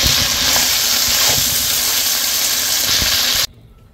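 Beef chilli sizzles steadily in a pan while being stirred, a loud continuous hiss with a few scraping clicks, cutting off abruptly near the end.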